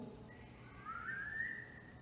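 A single rising, sliding whistle from a person reciting a Christmas poem at an orchestra concert, clear and fairly close against quiet room noise.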